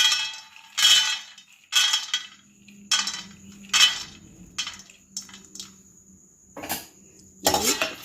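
Shelled peanuts tossed in a kadai for a sago upma, giving sharp intermittent clattering and clinking bursts as they are stirred, with quiet gaps between and no speech.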